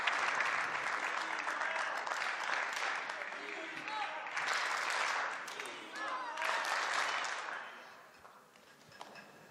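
Crowd at a professional table tennis match on the international circuit applauding and cheering in swelling waves, loud and near, with a commentator talking over the noise before it fades toward the end.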